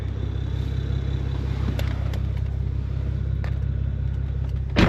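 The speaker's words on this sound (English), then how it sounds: "God, that T51 Armada sounds crazy." Steady low engine drone from a BMW E92 fitted with a T51 turbo, heard from inside the moving car, a constant loud rumble with a few faint clicks and a brief louder burst at the end.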